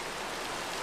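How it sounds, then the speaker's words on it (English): Heavy rain in the video game Minecraft makes a constant, even hiss that fills the whole moment without a break. "It's raining, and it's raining a lot."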